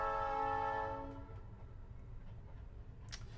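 A train horn in a video game blares loud and sustained for about a second, then cuts off, leaving a steady low rumble of the rolling train with a brief high screech near the end.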